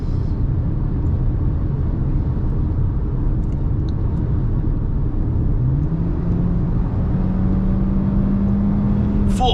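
A 2025 Kia K4 accelerates at full throttle, its engine note a steady low rumble from inside the cabin that climbs in pitch toward the end.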